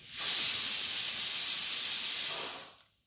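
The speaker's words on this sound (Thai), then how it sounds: "หม้อแรงดันทำงานแล้วนะ" A loud, continuous hiss of steam jetting from a pressure cooker for about two and a half seconds, then tapering off into silence.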